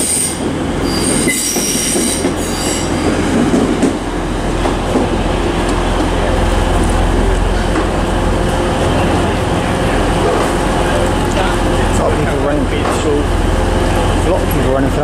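Class 350 unit 350.407 moves through Manchester Piccadilly with loud, continuous wheel squeal and rumbling rail noise throughout, close by and steady, with station ambience around it.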